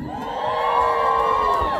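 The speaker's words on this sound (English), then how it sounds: "I want you to cheer as loud as you possibly can" Comic con crowd in a Dutch convention hall cheering and whooping loudly for a cosplayer entering the stage, a sustained roar of many voices rising slightly and holding steady throughout.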